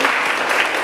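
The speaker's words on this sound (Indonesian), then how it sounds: "Tepuk tangan dulu dong untuk Kak Jenny." Brief burst of audience applause at a student talk show, a dense wash of clapping close by.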